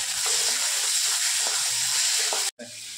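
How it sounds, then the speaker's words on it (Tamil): Onions and tomatoes, with a slit green chili, sizzle and hiss steadily in a hot pan, with a few faint stirring clinks and a momentary cut near the end. "வெங்காயம் தக்காளி நல்லா வதங்கிடுச்சு."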